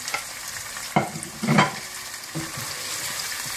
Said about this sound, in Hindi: गोश्त को थोड़ा सा भूनने के बाद आप इसमें पिसा हुआ अदरक लहसुन डाल दें